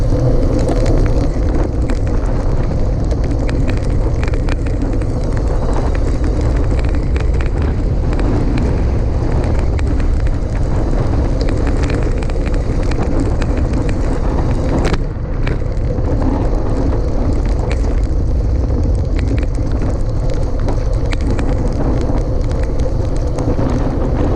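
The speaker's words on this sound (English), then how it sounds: "The wind's behind me." Wind roars steadily across the microphone while someone cycles outdoors on a sunny country road in Lincolnshire. The loud, constant buffeting lasts throughout with occasional bumps, and no one talks.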